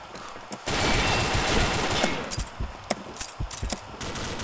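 Gunfire from an INSAS Pump Jack in the Combat Arms shooter game: a dense, loud burst of shots from early on, then thinning into separate, sharp reports through the rest of the clip, with no talking.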